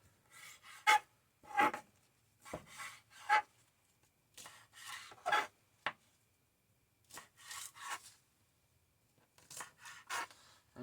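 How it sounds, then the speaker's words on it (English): A fillet knife slices through washed sweet potato vines in a series of short, crisp cutting strokes, close and quiet, spaced irregularly with brief pauses between cuts. "I'm taking my fillet knife."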